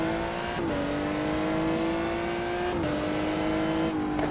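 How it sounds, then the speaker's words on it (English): A GT1 race car in the racing game GTR2 pulls away on its first lap, its exhaust giving a loud, steady engine drone whose pitch climbs and drops briefly with each gear change. "We can hear the exhaust rumbling as we go on the gas for the first lap."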